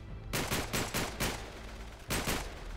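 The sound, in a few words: gunfire in the video game Uncharted 3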